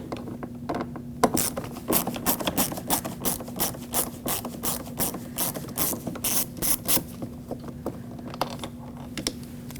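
Phillips head screwdriver turning out a door handle screw on a Lexus IS250, with a rapid ratcheting clicking that repeats steadily and close up, alone without talk.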